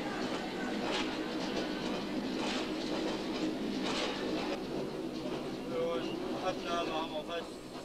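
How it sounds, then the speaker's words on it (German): Miners' personnel train of the Wismut uranium mine in the 1980s rolling toward the mine field, a steady rumble of wagons with faint rail clatter, continuous and moderately near, with a voice speaking over it. "rollt der Zug dem Grubenfeld zu"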